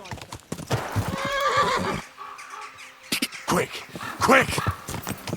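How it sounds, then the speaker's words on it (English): Horses spurred on in Kingdom Come Deliverance 2, with rapid hoofbeats, a clear neigh and a later whinny, while someone urgently shouts over the galloping. "Let's really spur these horses on, eh?"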